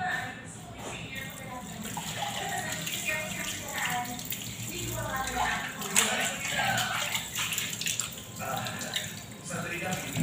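Steady running water from a tap while household items are washed in a kitchen, with clattering and splashing throughout and people talking faintly in the background.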